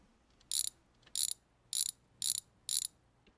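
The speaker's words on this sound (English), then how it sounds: "let's get ourselves a wrench" Five sharp ratcheting bursts from a wrench removing car wheels in the My Garage game, each about a beat apart and evenly spaced, loud and close against a quiet background.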